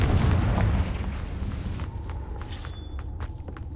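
Confringo explosive spell in the Hogwarts Legacy video game, a loud rumbling blast at the start that decays into a long fading roar, with faint crackles and a brief ringing tone afterward.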